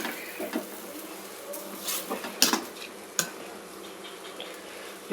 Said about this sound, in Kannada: ಇವಾಗ 1 ಬಟ್ಲು ಸಾವಿಗೆ ಹಾಕ್ತಾಯಿದ್ದೀನಿ